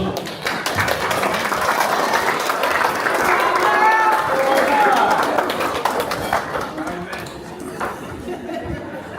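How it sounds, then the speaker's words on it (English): Wedding guests applaud as the maid of honor, Anna, is called up, loud sustained clapping mixed with crowd chatter and cheers that tapers off toward the end. "Round of applause for Anna."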